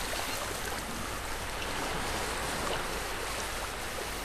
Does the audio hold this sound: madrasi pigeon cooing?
no